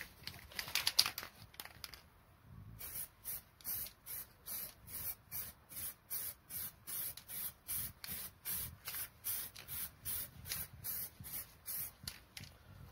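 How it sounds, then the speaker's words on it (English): An aerosol can spray-paints a metal sheet mounted on cardboard, about twenty short hissing bursts in a steady rhythm, close and fairly quiet, after a brief bit of rattling and handling. "I've mounted the metal on a bit of cardboard just to give me something to hold on to while I'm spraying it."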